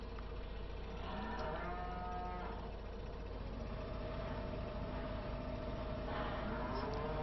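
Cattle mooing inside a cattle shed in the Farming Simulator 2015 game, several drawn-out moos over a constant low engine-like idle hum, with no talking.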